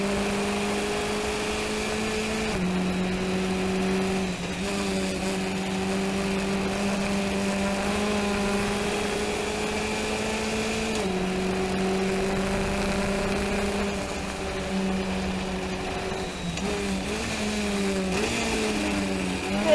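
A race car at the Summit Point circuit drones steadily on track, its engine pitch stepping and shifting between gears as first gear fails, loud and continuous from inside the car with no talk.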